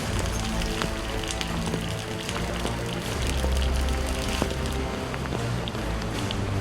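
Sudden steady rain patters on surfaces at an outdoor garden construction site, a dense even hiss with scattered drips and faint clatter, continuous throughout without voices.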